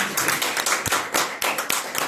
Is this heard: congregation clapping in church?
yes